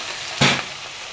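Spices with coriander powder, salt and water hit a hot pan, giving one short, loud hissing sizzle that fades quickly, with no talk.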